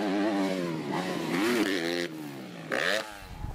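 Honda motocross bike on a flat jump, its engine revving hard with rising and falling pitch, then a short cut and a sharp surge of throttle, loud and close throughout.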